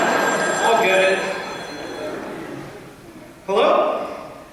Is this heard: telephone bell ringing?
yes